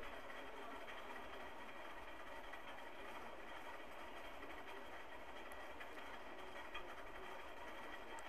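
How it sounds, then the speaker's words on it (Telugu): A sewing machine runs steadily while stitching the neckline of a baby frock made from leftover fabric pieces, giving a faint, continuous mechanical whir with no pauses and no voices. "దాని మీద దానిపై కూడా ఒక కుట్టు వేసుకోండి"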